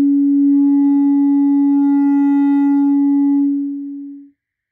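A pure, steady sine tone from an audio generator played through an amplifier holds at one pitch for about four seconds, then fades and cuts off, loud and alone.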